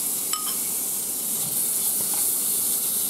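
Crayfish tails go into a hot pan of butter and garlic, producing a steady loud hiss of frying with a brief clink at the start, close and uninterrupted by talk.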